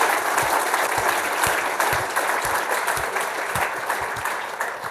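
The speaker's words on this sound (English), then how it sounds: "Maybe we can give our panellists a round of applause to begin with." An audience gives panellists a round of applause at an industry event, a full, continuous roar of many hands clapping, loud and steady before gradually easing.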